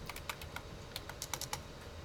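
Computer keyboard typing, a run of quick, irregular light key clicks at close range with nobody talking, as someone enters code comments in a Python file.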